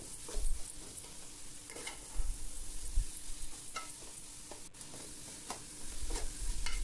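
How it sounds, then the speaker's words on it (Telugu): Yogurt, tomato, salt and garam masala being stirred together in a pot, a steady run of scraping and clinking spoon strokes over a soft background sizzle, with no talking. "ఇవన్నీ వేసిన తర్వాత ఒకసారి అంతా కలపండి"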